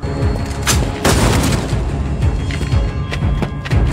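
Repeated gunshots strike a car in an action-film scene, a dense run of booming thuds and sharp cracks fired rapidly and loudly over several seconds.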